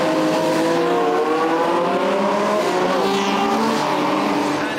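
Historic race cars roar away from the start at the Goodwood Revival, a loud, close pack of engines revving hard and climbing through the gears together, with faint tyre squeal and no voices.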